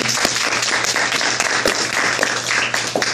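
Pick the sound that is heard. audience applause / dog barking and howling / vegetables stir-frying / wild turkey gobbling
audience applause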